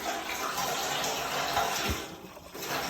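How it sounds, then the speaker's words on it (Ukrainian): Water runs steadily from a 12 mm silicone hose fed by a pump drawing river water, a continuous broadband splashing flow at moderate level with no talk. "Отак тече доволі непогано."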